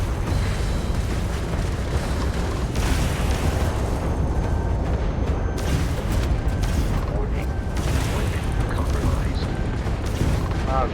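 A spaceship taking gunfire in Starfield, a constant heavy rumble of blasts and booms with creaking metal and alarm-like tones, loud and unbroken, while someone talks over it.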